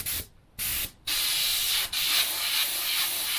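An Iwata Takumi Eclipse airbrush sprays grainy, unthinned paint, making a loud rough hiss with a gravelly texture that cuts out twice briefly and then runs steadily to the end.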